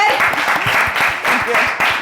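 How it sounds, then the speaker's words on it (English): Applause at an idea generation workshop, a small group clapping close by in a dense patter, with a voice speaking over it. "round of applause for Inger."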